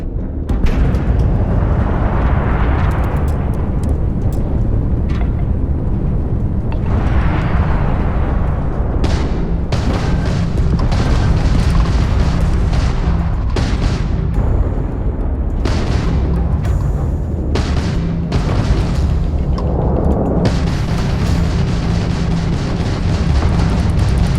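Incoming fire pounds the player in the Starfield video game, a sustained, loud roar of booms and blasts with sharp bursts scattered through the whole stretch.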